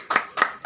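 Short bursts of audience applause at a residents' association annual general meeting and Christmas gathering, three brief clusters of hand claps, moderately loud with a slight room echo.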